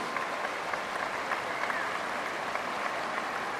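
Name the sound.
audience applause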